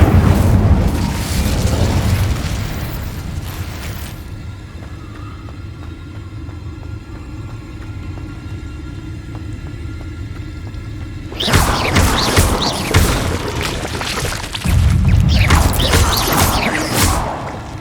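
The Incendio fire spell is cast in Hogwarts Legacy, a loud, dense burst of roaring and crackling fire blasts that opens the clip. A quieter stretch follows before two more heavy, rumbling bursts, all close and without talk.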